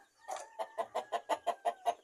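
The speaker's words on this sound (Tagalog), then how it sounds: "nangingitlog na naman yung ating manok" A native Basilan hen clucks in a quick, even series of about ten short clucks while laying, close by and fairly quiet, with no other sounds around.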